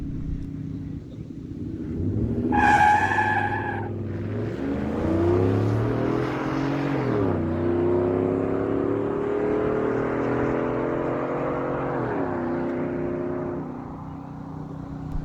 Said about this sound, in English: Benny in that 217 Ford F-150 out of Fredericton will get a bye run